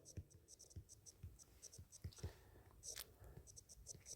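Chalk or marker taps and strokes on a board during a classroom physics lesson come in a quick irregular series, close and faint against a quiet room.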